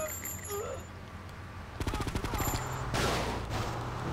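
Rapid bursts of gunfire from a small gun in GTA Vice City, a fast rattling volley in the middle followed by a louder broadband burst, all close and prominent over in-game background noise.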